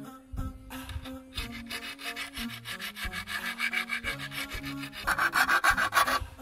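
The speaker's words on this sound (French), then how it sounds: "Donc je lime un peu avec une lime à chaîne de tronçonneuse." A scythe blade is sharpened with a round chainsaw file, making repeated close rasping strokes in a steady rhythm that grow louder toward the end, with no talking.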